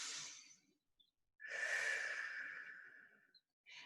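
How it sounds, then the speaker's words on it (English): A close, deep breath during a foot and hand stretching exercise: a short exhale, a pause, then a long airy inhale or sigh lasting about two seconds, with the start of another breath at the end. "Take a deep breath."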